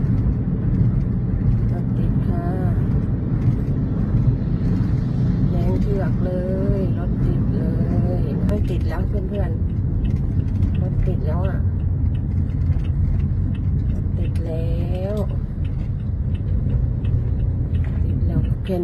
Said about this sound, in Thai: เก็บบรรยากาศบนท้องถนนมาฝากค่ะ อันนี้แถวแจ้งวัฒนะนะคะ ติดติดมากเลยค่ะ